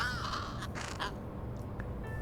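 A crow in the video game Little Kitty, Big City caws several times in quick succession, loud and close, followed by a few fainter, shorter calls, with no talking.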